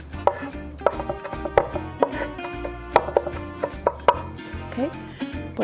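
Fried garlic and rosemary being finely chopped with a knife on a wooden board, a brisk irregular series of sharp close taps, with no voice over them.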